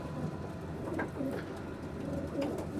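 Racing pigeons coo softly and repeatedly inside a loft, several low throaty calls overlapping against a steady background hum, with no talking.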